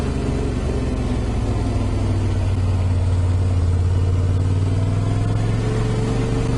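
A Yamaha T700 motorcycle ridden two-up gives a loud, steady engine drone with a deep, constant hum and wind rush, holding at an even pace without breaks.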